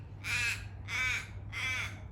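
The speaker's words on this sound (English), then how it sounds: "That's, that's the crow." A crow caws three times in an even rhythm, harsh and fairly close, over a low steady background hum in an outdoor garden.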